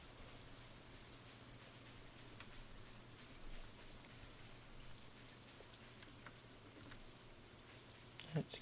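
Rain falls during autumn in the Stardew Valley Expanded farming game as a quiet, steady patter with soft scattered droplet ticks and a faint low hum underneath, plus a brief sharper clatter near the end.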